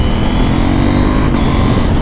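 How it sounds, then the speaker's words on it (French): A KTM 890 SMT motorcycle engine pulls hard under acceleration while overtaking, a loud, steady, close-up drone with wind rushing past, sustained through the whole stretch with no voices. "J'adore ce moteur, même en 105 chevaux, il va super bien"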